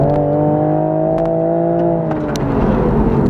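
A Toyota GR Supra accelerating on the road, heard from inside the cabin as a loud, steady engine drone whose pitch holds and then slowly drops, with a few faint clicks and no speech.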